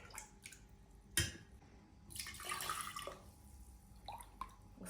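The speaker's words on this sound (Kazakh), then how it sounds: "Ыдысымызға құйып, дәмін көретін боламыз." Cooled fruit compote is poured into a vessel, giving faint, close liquid splashes and drips with a longer gurgling pour in the middle, quiet overall.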